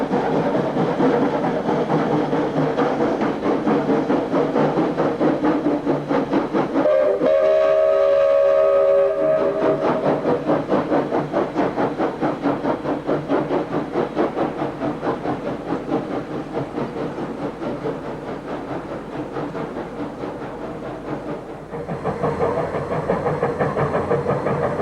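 Preserved steam locomotive BB 18 1/4 class No. 1072 runs in Australia, a loud, continuous rumble of working steam with a whistle-like tone sounding briefly partway through.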